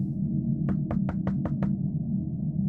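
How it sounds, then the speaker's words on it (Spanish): Someone knocks on the front door of a country house at night in bad weather: six quick, evenly spaced knocks ring out clearly over a low, steady hum. "de repente escuché un golpe en la puerta de mi casa"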